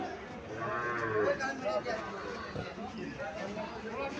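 A Sahiwal-desi cross heifer calf moos at the Chandimura cattle market in Barura, Comilla, a drawn-out mid-volume low call heard over the nearby chatter of people.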